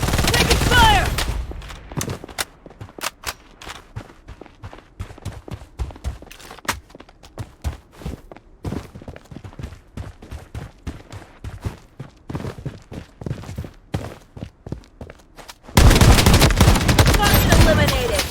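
Gunfire in the video game Blood Strike: sharp single shots and rapid bursts scattered throughout, loud and close, with footsteps and louder noisy passages at the start and end.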